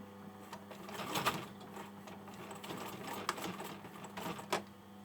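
A sewing machine hems a hoodie starting on the seam, giving a quiet, uneven mechanical whirr with a few soft knocks and clicks close by. No speech is heard.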